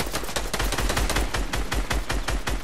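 Rapid automatic gunfire in the Fortnite video game, a dense, evenly spaced string of sharp shots repeating about five to six times per second, loud and close with no talk.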